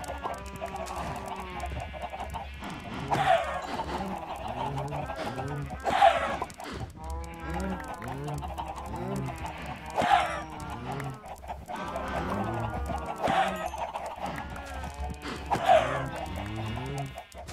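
Many Minecraft chickens clucking in a crowded pen in the video game, overlapping clucks and squawks repeating steadily, with sharp bursts every few seconds.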